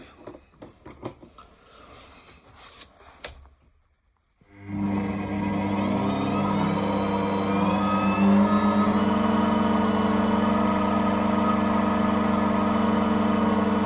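A test stand spins a rewound CDI motorcycle generator under load: after a few clicks and knocks and a brief silence, a motor starts and settles into a steady loud whirring hum with a sustained tonal whine.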